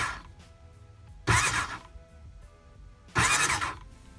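A Honda Aquatrax jet ski engine with its spark plugs removed is cranked on the starter in two short bursts, each a loud whirring churn of about half a second, separated by near-silence.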